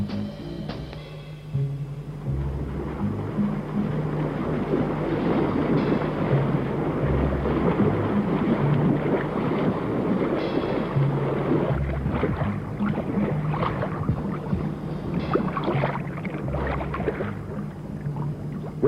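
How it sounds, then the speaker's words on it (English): Racing yachts in the 1962 Sydney Hobart race cut through open Tasman Sea water, giving a steady, continuous rush of wind and spray with low rumbling noise throughout and no talk. "The yachts are slicing through the Tasman now"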